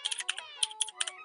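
Keys clack on a typewriter in quick, uneven bursts of crisp taps, close and moderately quiet, with short pauses between strokes.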